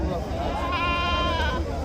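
A goat bleats in a long wavering cry amid a noisy crowd at the Gudur goat and sheep market, with people talking nearby.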